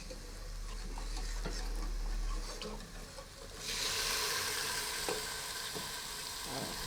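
Onion frying in a pan while cooking pancakes and beans at home, a steady soft sizzle that swells louder midway, with faint stirring and no talk.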